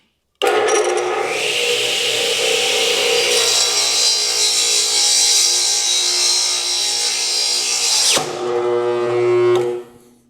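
A power saw bites into a board on a carriage with a loud, close, sustained whine and rasp that shifts in pitch partway through, then stops abruptly, followed by a few rattles as the blade is worked back out of the binding kerf.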